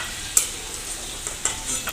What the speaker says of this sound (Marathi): आता आपण खोबरं तळून घेऊ।